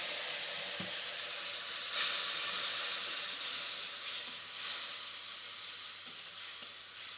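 Onion with turmeric, cumin and coriander powder frying in a pan: a continuous close, bright sizzling hiss that holds steady throughout, with faint stirring ticks and no one talking.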